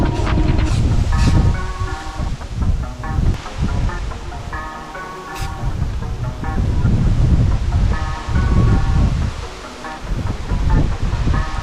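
Gusty outdoor wind roars and buffets the microphone in uneven surges. Brief quieter lulls break the rumble, with no speech.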